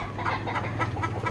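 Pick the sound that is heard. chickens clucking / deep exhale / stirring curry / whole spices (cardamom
chickens clucking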